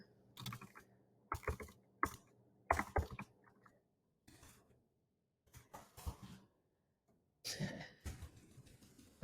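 Computer keyboard typing in short bursts of quick clicks separated by pauses, close and fairly quiet, with no talking.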